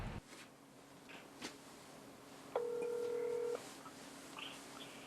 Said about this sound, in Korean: 그럼 전화 한번 연결해 보도록 하겠습니다.